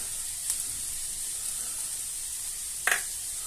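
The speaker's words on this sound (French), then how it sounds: "Donc nos oignons sont en train de cuire." Onions cooking in a pan for an onion tart, a faint steady sizzle with two brief sharper crackles.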